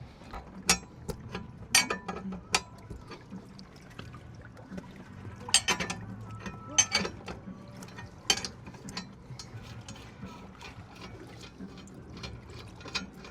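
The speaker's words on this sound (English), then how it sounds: "you're gonna take your wrench or your crescent wrench, you're gonna start loosening your bolt" Crescent wrench working loose a bolt on a surf or ski boat propeller, with irregular sharp metallic clicks and ratcheting taps over faint background noise, close by and moderately quiet.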